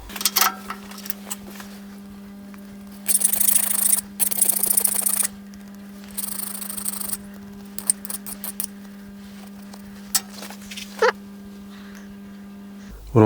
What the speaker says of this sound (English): and I'll deburr it.